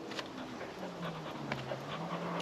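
A pet dog pants quickly and steadily outdoors on a hot day, a soft rhythmic breathy huffing heard up close but faint, with no talking.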